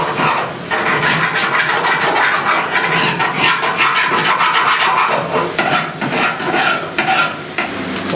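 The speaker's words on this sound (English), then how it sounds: "Let me dress it with the file one more time." A hand file dresses the welded door gap on a 1969 Chevrolet C10 classic truck, giving steady, close, raspy back-and-forth strokes that continue without pause and without talk.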